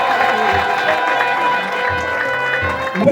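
A crowd at an Orthodox gathering in Gonder ululates together, a loud, dense wash of high trilling voices with cheering and occasional low thumps, steady throughout.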